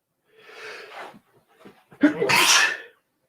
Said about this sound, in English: going to sneeze